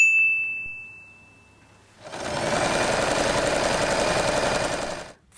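A sewing machine stitches a small fabric bow piece, starting after a faint ding and whirring steadily for about three seconds before stopping.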